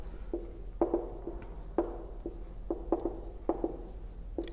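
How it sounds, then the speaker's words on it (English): Hand sketching of a graph, a pen or pencil scratching out short strokes in an irregular rhythm, close and clear over a low steady hum. "So I can sketch in that shape."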